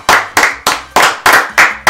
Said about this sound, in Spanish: los aplausos para un aplauso